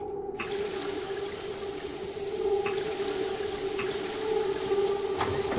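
Water runs steadily from a tap in the video game Prey, a constant rushing flow with a low hum underneath, moderately loud and unbroken, with a few faint clicks and no talk.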